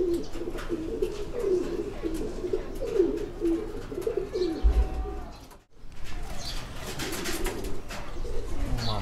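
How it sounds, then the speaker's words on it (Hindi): Soft, low coos from a golden pigeon repeat through the clip with a few faint chirps, steady background noise and a brief dropout near the middle. "ये कबूतर अभी इस वक्त आसिफ भाई के पास गोल्डन कबूतर परफॉर्म कर रहा है"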